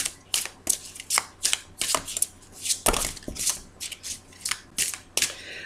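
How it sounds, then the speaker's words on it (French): Tarot-style cards being drawn and shuffled from a deck during a card reading, with a quick run of close, crisp papery flicks and riffles repeating through the clip, no talk. "Alors je vais aller chercher 2 cartes."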